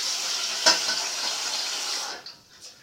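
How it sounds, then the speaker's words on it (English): Water from a kitchen tap runs steadily as rice is rinsed for a red pork dish, a close, continuous hiss with one brief splash, then cutting off into quieter trickles near the end. "Just make sure you drain that, rinse it till the water becomes almost clear."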